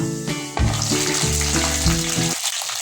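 Small onions fry loudly in hot oil just after garlic, a dense continuous sizzle for a Tamil fish kulambu, with a tonal hum running underneath throughout and no speech.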